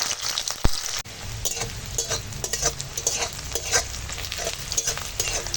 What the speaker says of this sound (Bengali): ওই তেলে এখন তেজপাতা ফোড়ন দিলাম আর দিয়ে দেবো পেঁয়াজ